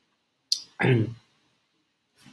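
A mouse click on a continue button in an online ad campaign setup, heard as a single sharp near click, followed by a brief burst of other sound, then quiet.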